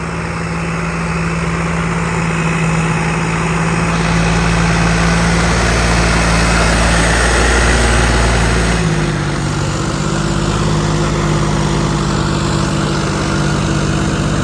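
A John Deere 5405 turbo farm tractor runs with a loud, steady low diesel drone and a constant hum, its pitch shifting slightly partway through, while the transmission slips in gear.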